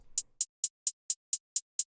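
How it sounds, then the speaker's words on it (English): A basic two-step hi-hat pattern ticks out eight crisp, evenly spaced closed hits. Each is short and bright, alone against silence, with a faint low thump beneath the first. "Typically a 2-step hi-hat pattern will sound something like this"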